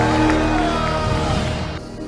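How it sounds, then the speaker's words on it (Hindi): A large revival crowd at an evangelical healing service in India shouts and cheers in a sustained, dense roar that tapers slightly toward the end. "I want you to give the Lord another big shout."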